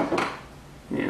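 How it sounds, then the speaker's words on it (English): Nuts being tightened on an Annihilator stock attachment give two short metallic clinks and scrapes, close and moderately loud, separated by a brief quiet pause. "And tighten them down."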